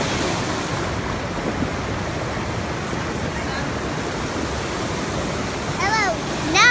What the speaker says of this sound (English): Now we're finally at the waterfall.